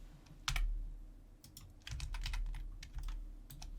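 Quiet clicks of a computer keyboard as a Shift S shortcut is typed, a few separate keystrokes and short bursts spaced irregularly, close and soft with no talking.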